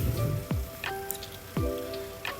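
Rain falling on a car during a road trip through Bicol, a steady patter of drops with repeated squeaky, swooping sweeps cutting through it at regular intervals.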